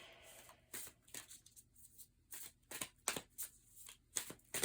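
Tarot cards riffled and shuffled by hand in several quick bursts of crisp papery flutters, close up, with quiet gaps between them and no talking.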